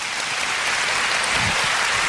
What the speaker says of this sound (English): Round of applause for mercy.